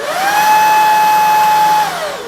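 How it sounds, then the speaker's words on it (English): A Shark cordless stick vacuum with two power settings and a turbo boost trigger runs with a loud, steady high-pitched motor whine that rises quickly, holds, then winds down after about two seconds. "With the Shark vacuum, you have 2 settings and a turbo boost trigger."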